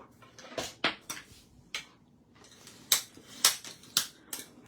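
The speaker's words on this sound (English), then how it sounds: "And we're just going to go ahead and fold it in half." Pure Pizzazz 8.5 by 5.5 inch cardstock folded in half: a series of crisp, close papery snaps and creases, about ten distinct sharp hits spread irregularly over quiet room tone.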